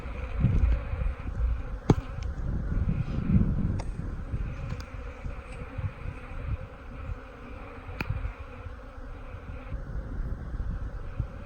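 Honey bees buzz in a dense, steady hum across an open hive frame full of brood during an inspection, close and continuous, with a few sharp clicks of handling cutting through.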